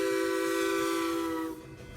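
A K-28 steam locomotive's whistle sounds a long, loud, steady chord near at hand, then cuts off abruptly, leaving a low rumble. The locomotive pulls the Durango Special, a mixed freight and passenger train running to Silverton on the Rio Grande.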